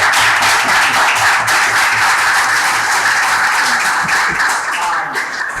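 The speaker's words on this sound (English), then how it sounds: "Let's give them a round of applause to start." Sustained, loud audience applause at a district two candidate forum, steady dense clapping from a room full of people that tapers slightly at the end.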